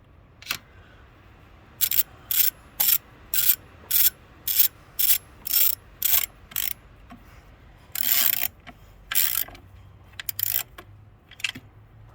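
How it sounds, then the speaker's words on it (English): A wrench ratchets as injector bolts are torqued down, giving a run of sharp, evenly spaced clicking bursts up close, then a few longer, irregular ratchet strokes near the end. "I torque these down to get that corner tight so that it's corresponding corners"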